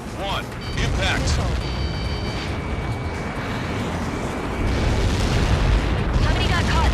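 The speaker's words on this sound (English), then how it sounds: "How many got caught in that explosion?" Huge explosion from a missile impact in the Ace Combat 7 jet combat game, a loud sustained rumbling roar filling the scene, with radio chatter and tonal game effects over it.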